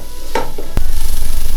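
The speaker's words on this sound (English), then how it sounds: "We're going to give it a good stir, and the tomato will has softened." Tomatoes being stirred in a pot of South Indian style beef curry, a loud close scrape and clunk of a utensil followed by a rapid rhythmic bubbling sizzle.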